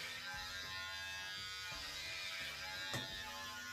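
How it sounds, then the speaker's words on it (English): Electric clippers buzz continuously and close up as a head is shaved, a steady motor drone with small shifts in pitch where the blades move through hair, and no talking. "Well, the day has come, my friends, to shave."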